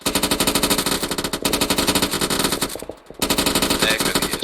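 Sustained rapid machine gun fire in the Arma 3 military video game, loud and close, as continuous bursts with one short pause, and no talking.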